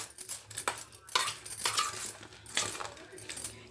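Crispy fried corn tossed in a bowl with masala, giving quick clinking and crunchy rattling bursts up close, irregular scrapes and taps from a utensil or bowl.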